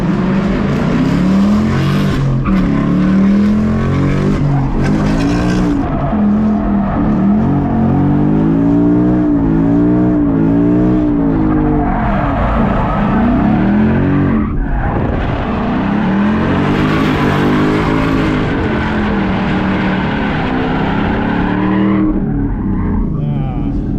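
A car laps a race track, its engine revving hard and rising and falling through gear changes, with tires squealing through corners, loud and continuous.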